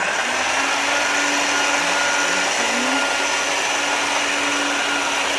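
A motorized pasta machine rolls sugar paste with a loud, continuous whirring drone that holds steady from start to end, with no talking.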